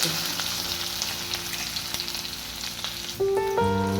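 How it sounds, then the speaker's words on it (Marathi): Cumin seeds hit hot oil in a pan for a tempering, giving a steady close sizzle and crackle, then a brighter tonal hum near the end. "तेल टाकले त्यात टाकले जिरे"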